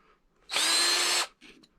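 A power drill fitted with a countersink bit whines for under a second as it bores a tapered screw hole in wood, a sharp isolated burst followed by a brief softer tail.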